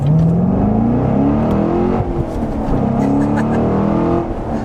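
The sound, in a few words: sports car accelerating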